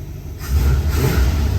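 A 1975 Lincoln engine with a slightly sticking accelerator idles close by, then swells into a louder rev for the final second.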